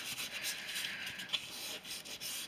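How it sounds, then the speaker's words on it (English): A hand rubs firmly over a paper picture to stick it down on Jemima Puddle-Duck wall art, a steady soft scratchy friction, close and quiet, with no voices. "Just give it a good rub so it's stuck."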